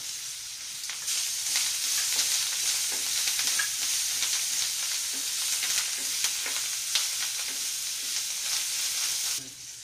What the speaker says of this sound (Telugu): ఇలా కొద్దిగా వేగిన తర్వాత దీనిలో కరివేపాకు, కొద్దిగా కొత్తిమీర వేసుకున్నాము